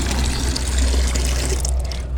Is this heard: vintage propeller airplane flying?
no